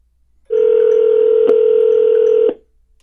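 A Pioneer DEH-X6900BT Bluetooth car stereo places a phone call, giving one loud, steady electronic tone for about two seconds with a faint click in the middle. The tone stops cleanly, and nothing else is heard.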